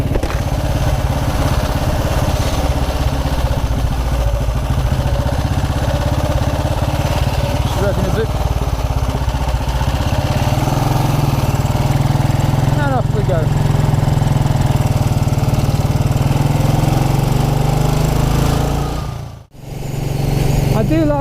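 A 1929 Ariel motorcycle engine drones loudly and steadily while being ridden along country lanes, with a brief drop in level near the end before the engine note returns.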